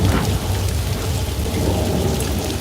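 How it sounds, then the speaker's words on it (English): Simulated rain falls steadily from a studio sprinkler system, a dense continuous hiss of drops hitting the ground with a low rumbling undertone, loud and even throughout with no voices. "Now that thunder you're hearing would typically be added in post-production"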